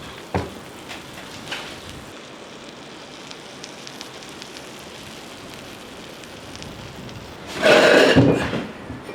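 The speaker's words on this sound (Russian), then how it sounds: "А, лук зашкварчал. Сковорода горячая." Onion crackles with a steady sizzle in a hot cast-iron pan, broken by a sudden louder hiss toward the end, with no voices.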